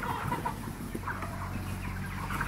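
A dense chorus of 44-day-old broiler chickens clucking and murmuring continuously inside a poultry farm house, with occasional louder calls rising above a steady low hum.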